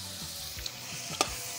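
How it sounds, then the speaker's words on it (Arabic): Onions stir-fried with meat in a pot over an outdoor fire, giving a steady close sizzle broken by a couple of sharp scraping clinks from the stirring spoon. "بتقلبي البصل في اللي هو الإيدام باللحمة، بتقلبي كله مع بعضه يعني، وايه وتشوحيهم كده شوية كده"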